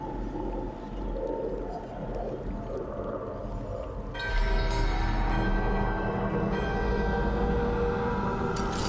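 Deep, resonant bell tones ring out during a ritual to wake a bell in Dragon Age: The Veilguard, a low droning swell building louder midway with bright metallic shimmer joining in, over game ambience with no speech.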